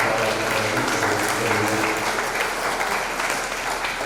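Steady, dense applause from a crowd at a village temple festival, continuing evenly throughout with a low hum and murmur underneath.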